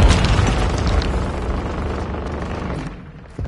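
Grenade blast in Call of Duty MWII: a loud, close, low booming explosion that fills the opening and slowly rumbles away over a few seconds, with a faint thump at the end.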